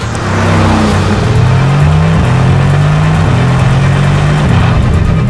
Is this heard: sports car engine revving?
yes